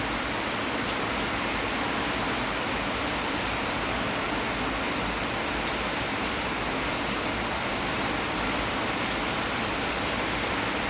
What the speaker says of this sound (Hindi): बारिश की आवाज सुनाई दे रही होगी।